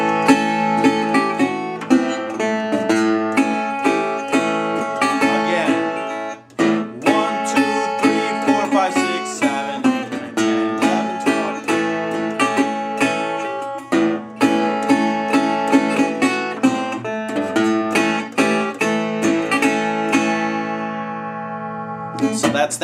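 An acoustic guitar slowly plays a Delta blues lick, with a long run of deliberate plucked notes and strummed chords, close and sustained, ending on a ringing chord.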